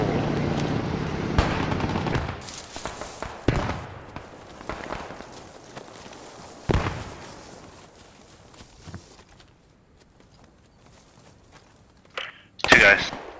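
Scattered gunshots in the WW2 video game Post Scriptum, with a few sharp reports spaced seconds apart and the loudest crack near the end. A rumbling battlefield and occasional voices sit in the background.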